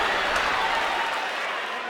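A steady roar of a cheering hockey arena crowd fills the NHL 2003 game, a dense continuous wash of applause and noise that stays even throughout without breaks.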